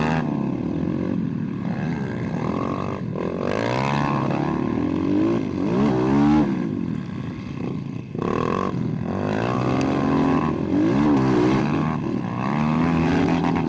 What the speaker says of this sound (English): So here I'm just going to let some of these faster guys get around me.